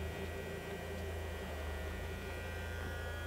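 Alzmetal AB4SV 27-inch heavy duty drill press with a number 4 Morse taper spindle running at low speed, giving a steady, smooth electric hum with no talking.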